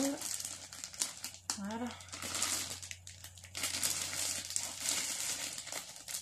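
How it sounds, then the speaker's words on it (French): Plastic doll packaging and straps rustle and crinkle up close while someone struggles to open a box containing a Dollfie Dream doll, with steady crackling handling noise and a voice speaking briefly over it. "je suis en galère pour ouvrir les sangles"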